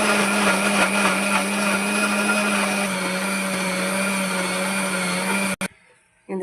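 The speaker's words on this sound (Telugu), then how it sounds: "దీన్ని మిక్సీ చేసుకుందాం మనం" A kitchen mixer grinder blends chopped mango with sugar for summer mango juice, producing a loud, steady motorised whine that cuts off abruptly near the end, then briefly starts up again.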